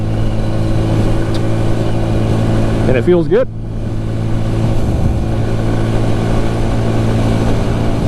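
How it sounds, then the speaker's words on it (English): A CF Moto Papio 125 mini motorcycle cruises at about 50 mph near 6,500 RPM, a steady droning engine hum mixed with wind rush, with someone briefly speaking over it midway. "cruising along here, once again, 50 miles an hour, revving about"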